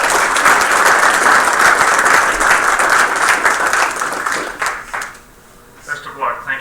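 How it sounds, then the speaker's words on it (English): Board meeting audience breaks into sustained applause, dense steady clapping for about five seconds before fading into a brief lull and a few scattered claps. "Give him another round of applause"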